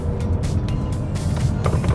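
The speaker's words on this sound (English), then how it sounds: "I just love the way this engine sounds, man." A Mazda CX-5 engine runs with a steady, loud low rumble and a broadband whoosh of road and drivetrain noise, heard close up with no one talking.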